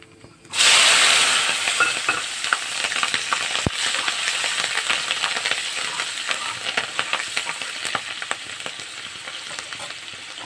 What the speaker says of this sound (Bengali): তেলে ফোড়ন দিব কালো জিরে আর দেব চেরা কাঁচা লঙ্কা